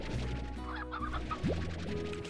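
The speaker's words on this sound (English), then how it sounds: "So I'm gonna collect 30 chickens and then I'm gonna go to the cat slime." Chickens in the Slime Rancher video game cluck loudly in quick bursts over steady background game music.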